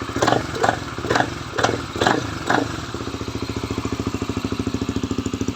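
A Sonic motorcycle fitted with a CB150 engine revs close up in a series of sharp throttle blips, then settles into a steady, rapid idle chug, loud and alone with no voices.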